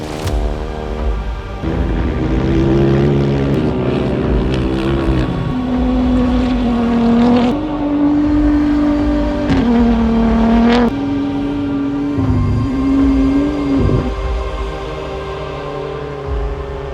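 Dakar Rally motorcycles and cars roaring past one after another on an open desert course, engines rising and falling as each vehicle approaches and fades, with gusty wind across the microphone.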